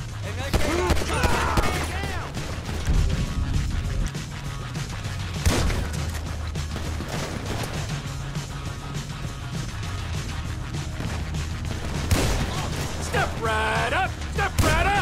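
Gunfire in the video game Grand Theft Auto V, heard as repeated shots and bursts over a steady game backdrop of engine and music, with a few voices in between.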